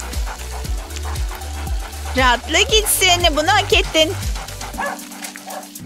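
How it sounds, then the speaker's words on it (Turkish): A pet dog yips and whimpers in short bursts partway through while someone talks over and around it, with steady rhythmic thumping music underneath. "Yoksa o köpek mi?"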